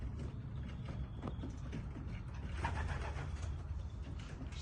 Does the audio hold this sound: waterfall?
no